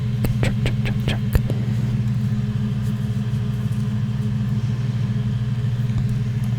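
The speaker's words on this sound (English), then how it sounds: "Sorry about that if you could hear his truck." A truck drives past outside late at night, a loud steady low engine rumble that stays constant across the whole stretch, with a few sharp clicks near the start.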